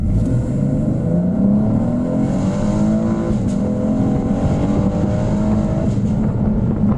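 A 2018 Chevy Camaro RS convertible with the top down accelerates hard on a country road, its engine note climbing steadily and loud throughout, with road and wind roar close by and no talking.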